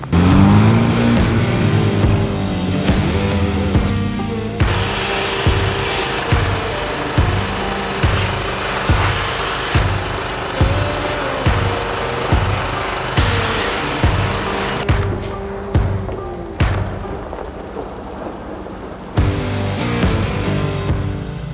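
Suzuki Samurai with a 1.6L 8-valve engine driving down a driveway, a loud, close engine droning and revving with repeated rises and dips for about twenty seconds.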